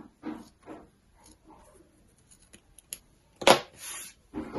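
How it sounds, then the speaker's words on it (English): Scissors snip off the corners of a sewn fabric patch pocket for a weekender bag, making a few quiet, close cuts with soft fabric rustling between them. "on the bottom, we'll just trim off those corners"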